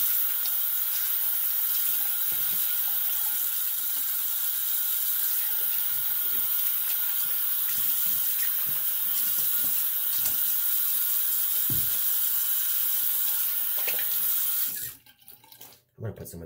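Tap water runs steadily into a bathroom sink while someone rinses off after a shave, a continuous close hiss and splash that stops abruptly near the end.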